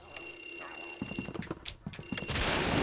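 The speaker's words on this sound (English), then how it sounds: "Apparently there's a phone ringing, too." A telephone in Luigi's Mansion rings with repeated bright tonal bursts over a rumbling game background, with footsteps-like thuds and a rising noise wash toward the end.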